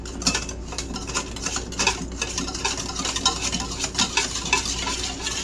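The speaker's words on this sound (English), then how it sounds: "We're going to whisk this right on up." Whisk beaten briskly through a sauce mixture in a bowl for beef stir fry, a steady run of quick metallic scraping ticks, close and fairly loud, with no voices.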